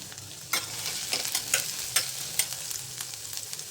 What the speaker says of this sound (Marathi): तेल घालायचं तेल छान तापले त्यामध्ये लसूण घालायचं बारीक कापलेलं